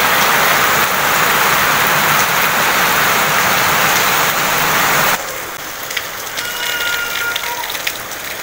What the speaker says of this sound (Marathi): आम्ही घरी येईपर्यंत एवढा पाऊस.